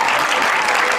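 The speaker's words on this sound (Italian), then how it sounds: "E che un applauso questo" Live theatre crowd at the Teatro Traiano in Civitavecchia bursts into loud applause, a thick unbroken roar of many hands clapping close and strong, with no voices over it.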